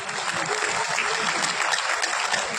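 A crowd applauds at a gathering honouring rural doctors, a dense continuous patter of many hands clapping at steady loudness throughout.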